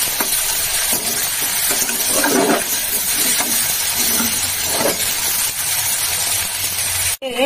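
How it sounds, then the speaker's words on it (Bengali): Pointed gourd fries in a pan with salt and turmeric, giving a constant close sizzle broken by stirring scrapes and clinks, with a sharp knock near the end and no speech. "লবণ আর হলুদ দিয়ে একটু ভেজে নিই"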